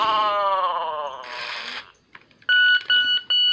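A 1998–1999 Furby toy chirps and warbles on reset, then a short run of clear, loud beeps repeating with brief gaps as it enters test mode.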